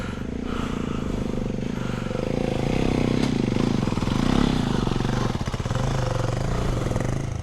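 An off-road motorcycle engine on a trail ride to Patla Betta in Karnataka revs hard and loud, a dense throbbing roar that swells around the middle before settling into a fast, rough pulsing. No one speaks.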